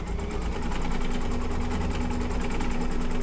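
An embroidery machine stitching clouds, running at a steady rapid mechanical rhythm, close and continuous with no talking.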